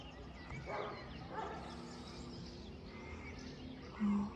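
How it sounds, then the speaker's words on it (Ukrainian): Dogs bark faintly in the distance, a few scattered woofs over a soft outdoor background with occasional bird calls. "Зараз собаки гавкають, заважають"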